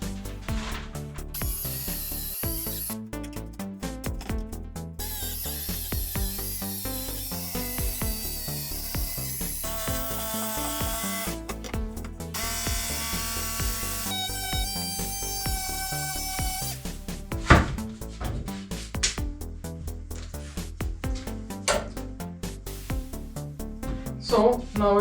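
Mahogany being cut out with a power tool, a long stretch of buzzing, whining cutting bursts with brief pauses and occasional clunks, fairly close and without talk.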